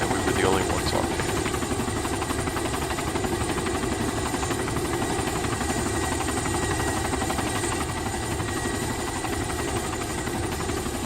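An Mi-8 helicopter from the game Arma 2 flies with a steady, loud rotor drone and low engine rumble that hold constant throughout, with no gaps or pauses.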